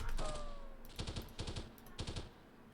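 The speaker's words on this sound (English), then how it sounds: "Can't see where they're shooting from, but it's impacting close." Rapid bursts of automatic gunfire in the 1998 video game Delta Force come in three short clusters about half a second apart, each a quick string of sharp cracks over a steady background hum.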